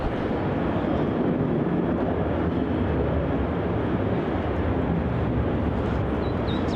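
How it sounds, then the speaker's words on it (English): A Virgin Australia passenger jet takes off from Melbourne Airport, a steady, loud broadband engine roar that fills the whole stretch without letup, with some wind buffeting and no talking. "This is Virgin Australia flight VA219 taking off to Adelaide."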